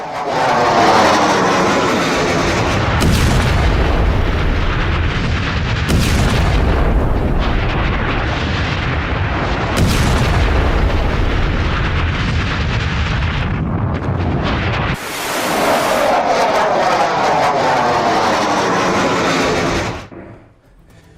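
A military attack between Israeli forces and Hezbollah fills the air with a loud, sustained roar of jet aircraft and heavy blasts, several surges and abrupt cuts breaking the dense noise before it fades at the end.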